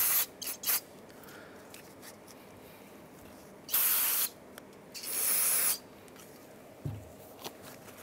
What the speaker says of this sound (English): Just a little bit of brake clean.